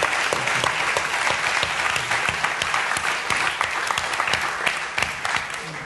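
A crowd applauds Benny Wenda, the West Papuan leader, in a steady, dense burst of clapping that holds strong throughout, with a few louder claps near the front.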